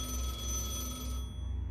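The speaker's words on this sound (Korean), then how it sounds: "어둠 속에 울린 한 통의 전화" An old-style telephone bell rings steadily with a rapid trilling tone, then cuts off near the end over low background hum.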